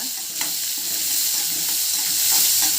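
Sliced large onions sauté in a hot pan for a drumstick gravy, giving a steady close sizzle with a few soft spoon scrapes and stirring clicks.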